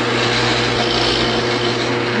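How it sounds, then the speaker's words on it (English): A drill press bores through a piece of soft wood held by hand, giving a steady, continuous motor whine with a broad hiss that stays at an even level throughout. "I'm going to finish drilling through this piece."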